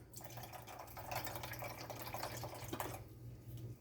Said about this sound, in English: About 1/4 cup. Balsamic vinegar.